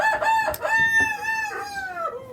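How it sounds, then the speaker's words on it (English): A pet rooster crows loudly and close by in a home workshop during a pneumatic nail gun repair, one long strained cock-a-doodle-doo with a few clucks. "My rooster doesn't like it when I talk, so he starts crowing."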